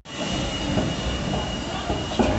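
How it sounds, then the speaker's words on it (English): Continuous loud rumble and rattle of a train rolling past nearby at a crossing, with wheel squeal and clanking over steady noise. "Train going by."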